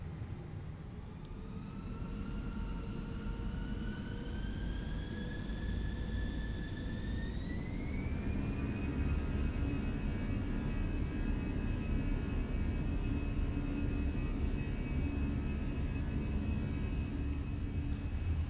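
Twin jet engines of an Airbus A320 in a flight simulator spool up with a rising whine that climbs and then holds steady over a deep, constant roar, loud and sustained throughout.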